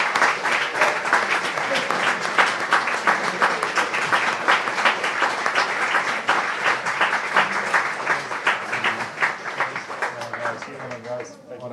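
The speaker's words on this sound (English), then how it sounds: "A big round of applause" A live event audience gives sustained applause, dense and loud, with a crowd's clapping continuing for about ten seconds before it thins out at the end as a voice begins speaking.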